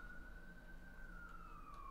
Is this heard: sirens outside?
yes